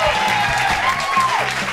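Children's-show applause welcoming the letter T, a dense steady clapping wash with a tonal musical line running through it, loud and continuous for under two seconds.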